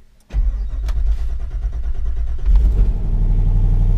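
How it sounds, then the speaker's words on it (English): Jeep Wrangler JKU with a swapped LT1 V8 cranks briefly in the cold, then fires and settles into a loud, close, steady rumble that swells slightly as it catches. "let's put the key in and listen to how long this cranks before it starts."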